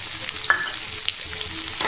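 Garlic and chili sizzling in hot oil in a kadai while cooking paneer, a steady close frying hiss with faint stirring clicks.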